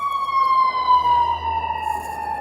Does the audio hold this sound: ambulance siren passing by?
yes